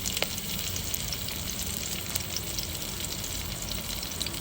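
Chopped onion, cumin and ginger fry in a pan, giving a steady close sizzle with faint crackles and pops throughout and no talk.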